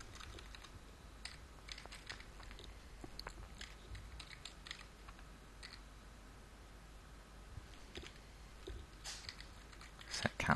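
A computer keyboard is typed on in an irregular run of faint, close key clicks scattered over ten seconds, with a small flurry at the end.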